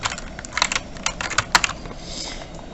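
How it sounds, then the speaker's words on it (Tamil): Steady typing on a computer keyboard, rapid close clicks and key taps running continuously without pause, with a slightly louder tap near the middle and no talking. "உயர்தரு அப்படிங்கிறத நம்ம டைப் பண்ணிவிடுவோம்."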